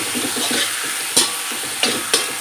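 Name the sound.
stir-frying spring onions in a pan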